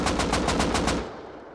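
A rapid burst of automatic gunfire from the video game Rust, about eight evenly spaced shots over roughly one second, loud and close, then a short fading tail.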